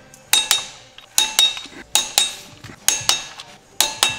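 Metallic clinks and ratchet clicks from torquing clutch and flywheel bolts on a Mazda Miata in a star pattern, arriving in paired sharp strikes about every second, close and alone with no talk.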